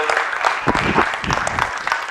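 Audience applause welcoming Mr. Avinash Singh to a software business presentation; steady, fairly loud clapping from a crowd throughout, with some voices faintly underneath.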